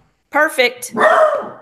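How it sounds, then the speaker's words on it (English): A pet dog barks in a few quick, sharp bursts close by indoors while a person talks during an algebra tutoring session. "That's my dog."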